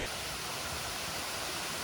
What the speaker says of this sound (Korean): 더운 날 시원하게 떨어지는 폭포를 보고 가시는 것도 정말 추천드립니다.